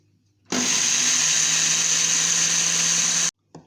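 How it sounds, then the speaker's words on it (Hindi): An electric kitchen grinder whirs loudly and steadily for about three seconds, blending sponge cake ingredients, then stops abruptly, followed by a brief short burst. "इसको हम ग्राइंड कर लेंगे ग्राइंडर में"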